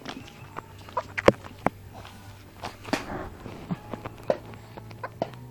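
A chicken gives scattered short clucks near the mic, mixed with footsteps and thumps as it is chased around a home yard, with a few quieter sounds between the louder bursts.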